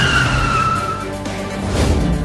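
A car rolls in and its tires squeal in a long, high skid as it brakes to a stop, close and loud over a low engine rumble.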